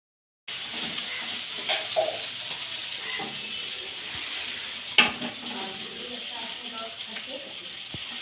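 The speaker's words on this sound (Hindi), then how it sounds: "तो मैं यहाँ पे बना रही हूँ पास्ता" Pasta cooks in a pan with a steady close hiss and sizzle, stirred now and then with soft clinks and scrapes, while someone speaks quietly in Hindi over the cooking.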